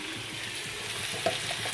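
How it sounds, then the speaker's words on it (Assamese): Radish fries in a pan with a steady, close sizzle and crackle, a faint stirring scrape now and then, and no voices. "এইখন মূলা ভাজি"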